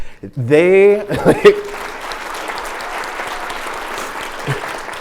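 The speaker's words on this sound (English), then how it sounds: "you have to give a round of applause for the folks who organized this event" A brief voice at the start gives way to a sustained wash of lecture audience applause that continues steadily until the end.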